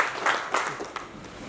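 Audience applause at a Hindi kavi sammelan poetry gathering, a brief patter of clapping from a crowd that swells and fades within moments, moderately loud with no voices over it.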